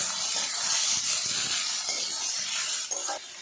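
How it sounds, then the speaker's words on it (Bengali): Chopped onion fries in hot oil with a loud, steady, close hiss and sizzle. The sound holds without a break and eases slightly near the end. "পেঁয়াজটা নাড়াচাড়া করে ভাজা ভাজা করে দেবো"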